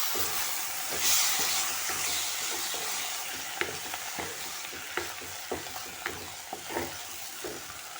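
Chopped banana flower hitting a hot tempering in a pan, a broad steady sizzle that flares at first, then carries on while a spoon scrapes and stirs in sharp clicks.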